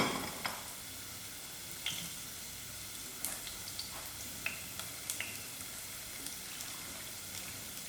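Mustard seeds sizzle in hot frying oil with a steady, faint hiss, broken by scattered sharp pops and crackles from the seeds.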